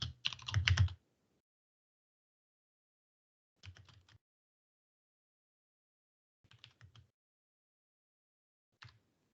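Someone types code on a computer keyboard in quiet, short bursts: a quick flurry of keystrokes, then three brief clusters of taps separated by silent pauses.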